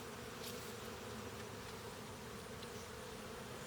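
Honey bees swarm around open hive frames in a dense, continuous buzz that stays steady and close throughout, with no voices.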